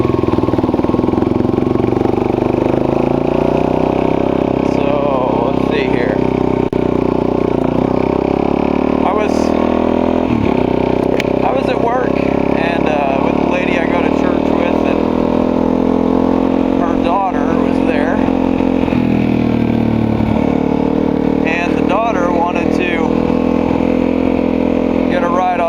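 Motorcycle engine droning steadily throughout a ride, a constant mid-pitched hum with gear and throttle shifts, heavy wind noise, and a rider talking over it the whole time.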